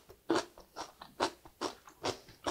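Blanched butterbur stalks, boiled for three minutes and pickled with mustard, crunch crisply with each bite, giving about seven evenly spaced, close chewing crunches.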